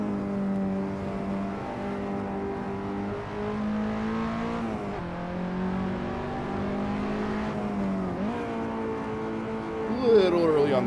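A KTM X-Bow race car in a sim racing game at the Red Bull Ring: a steady, loud engine drone rises through the revs, with two clear dips where sequential gear shifts cut in.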